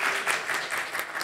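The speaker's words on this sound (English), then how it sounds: "There's applause." An audience at a live Gen Con 2022 convention panel applauds, a dense, even patter of many hands clapping close by, with no voices over it for the short stretch.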